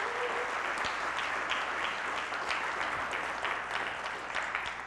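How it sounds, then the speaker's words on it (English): A church congregation applauds, steady dense clapping from many hands throughout, moderately distant and even. "Let's give them a warm round of applause."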